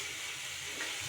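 Chana dal and cumin, with chillies, sautéing in a little oil in a pan, giving a steady, soft hiss and sizzle with no voices over it.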